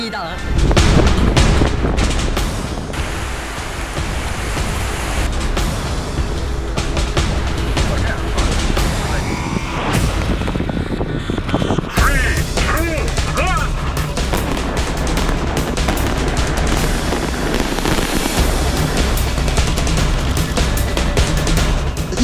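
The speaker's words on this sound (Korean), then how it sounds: "지난 5월 풍계리 갱도 폭발을 할 때 당시에는 전문가 없이 외신 기자들만 불러서 폭발을 했었는데요" Tunnel demolition explosions at the Punggye-ri nuclear test site in North Korea, a dense, continuous roar of booms and rumbling blasts lasting throughout, loud and sustained with some crackling debris.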